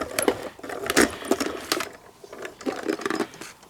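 A Spellbinders die runs through a hand-cranked die-cutting machine, giving a steady, loud, close run of rhythmic ratcheting clicks and rattles that eases off briefly midway and then resumes.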